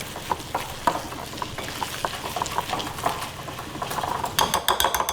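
A spoon stirring a thick millet rava batter with curd in a bowl, giving soft wet scraping and irregular light clinks against the sides that grow quicker and brighter toward the end.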